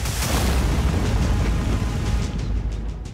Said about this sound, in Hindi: यहाँ पर लगातार बमबारी हो रही है इस इलाके में